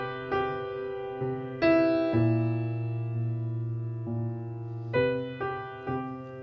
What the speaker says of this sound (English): Is that terrible sound right there, the C and the B together.